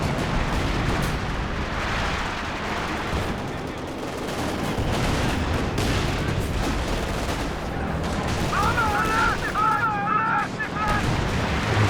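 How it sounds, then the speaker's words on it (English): A howitzer barrage in the Company of Heroes 2 strategy game: dense, rumbling booms and crackling blasts that run almost unbroken throughout, loud, with a commentator talking over them. "That first barrage from the howitzer."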